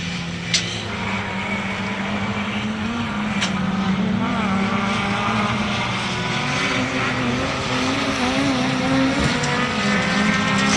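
A historic Mini races in rallycross at Lydden Hill, its engine droning steadily at a distance with a sustained buzzing tone that shifts slightly in pitch, mixed with other circuit noise and a faint wind rush.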